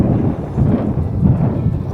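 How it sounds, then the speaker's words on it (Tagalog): Strong wind buffeting the microphone on a ride near Ternate, a low rumbling roar that surges and gusts continuously with no speech. "Sobrang lakas ng hangin."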